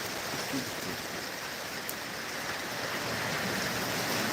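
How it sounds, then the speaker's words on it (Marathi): Heavy monsoon rain pours down with strong gusting wind in the Sahyadri hills, a loud, steady, dense roar of water that holds unbroken throughout. "अगदी जोरात पाऊस चालू झालेला आहे"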